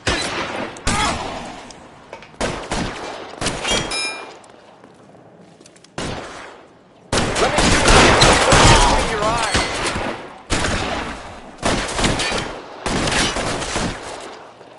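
Heavy bursts of gunfire from a shootout in a PS4 game, arriving in repeated loud volleys separated by short gaps, with game voices speaking among the shots.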